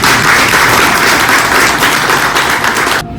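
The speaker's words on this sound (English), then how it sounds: "What about a big round of applause?" Loud, dense audience applause at a campaign event with students backing a Kane County candidate. It is sustained and even throughout, then cuts off abruptly just before the end.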